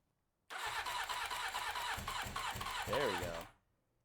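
A 1993 Honda CBR900RR motorcycle engine cranks and fires, catching into a loud, steady idle that carries for about three seconds with a brief rev near the end before cutting off.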